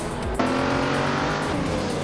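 A 2019 Porsche 911 Carrera S race car in a racing game roars with a steady, loud engine drone at race start, its pitch rising briefly as it accelerates, with no talk over it.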